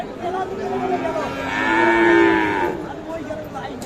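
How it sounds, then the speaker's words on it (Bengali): A young calf, about five or six months old, at a cattle market moos once in a drawn-out, rising and falling call, fairly close, over faint crowd murmur. "এইটা ছোট বাছুর আনুমানিক পাঁচ ছয় মাস বয়স হতে পারে"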